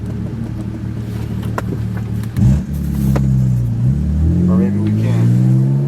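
A car engine rumbles low and steady while driving in race mode, rising briefly as if revving, with someone talking over it.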